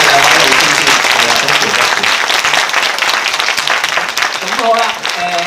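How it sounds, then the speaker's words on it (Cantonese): An audience applauds two speakers, a Cantonese opera master and a Noh theatre master, at the close of a cross-cultural talk. Loud, dense clapping runs throughout while voices speak over it. "好多謝我哋俾一次最熱烈嘅掌聲"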